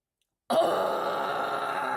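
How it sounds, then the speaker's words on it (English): A long, forceful breathy exhale that rattles the lungs begins abruptly and holds steady, rough and rattling, with nothing else around it. "exhaling audibly so it rattles your lungs"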